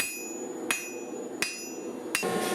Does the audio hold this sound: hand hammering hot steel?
yes